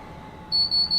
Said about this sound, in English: I'm glad the alarm goes off when you're on the outside.